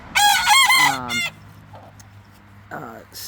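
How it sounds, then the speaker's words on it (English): A rooster crows loudly and close, a rising harsh call, followed after a pause by a shorter second crow. "Versus roosters crowing tends to be in 15 to 30 minute"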